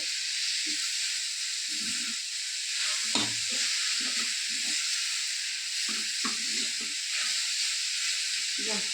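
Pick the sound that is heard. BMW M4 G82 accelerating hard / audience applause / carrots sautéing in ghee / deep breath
carrots sautéing in ghee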